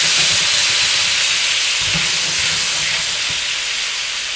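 Salmon frying in a hot pan sizzles loudly as about a tablespoon of aminos is poured in, a steady bright hiss that holds across the whole stretch with faint low clatter underneath.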